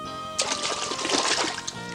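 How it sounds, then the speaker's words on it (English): A jet of water bursts up from a swamp in a brief, fairly close splash and spatter that follows a short swell and then settles. "Suddenly, a jet of water shot up."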